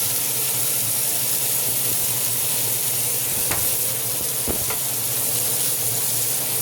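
A pan of onions fries with a dense, constant close sizzle for braised short ribs, broken by a couple of sharp utensil scrapes as they are stirred; no one talks.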